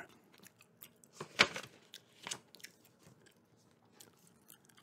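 Quiet, close gum chewing with soft wet smacks and a few sharper clicky bites spread irregularly over several seconds, intimate and low in level.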